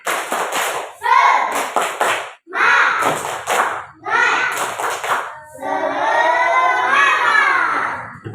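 Schoolchildren in an Indonesian classroom doing a rhythmic spirit clap, with bursts of sharp, patterned claps mixed with loud chanting voices in short phrases, ending in a longer sustained group shout.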